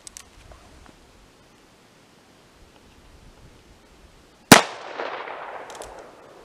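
A single sharp gunshot from a vintage .45 single action revolver fired at a half-inch mild steel target, loud and close, ringing out into a long decaying echo after a quiet stretch.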